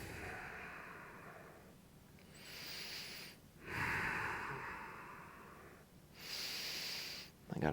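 Heavy rhythmic breathing during an isometric hip-raise workout, long slow inhales and exhales close to the microphone, in about four drawn-out breaths.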